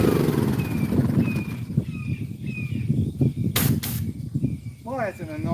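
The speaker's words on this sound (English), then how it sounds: "Well, that's an annoying bird." A bird calls outdoors with repeated short high chirps and whistles, heard over close speech and a low rumbling background during work on a 70-year-old Craftsman lawn mower.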